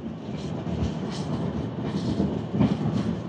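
A Shatabdi Express passenger train rolls along on rails, a steady low rumble with soft rhythmic wheel clatter heard from inside the coach, continuous and moderately loud with no talk.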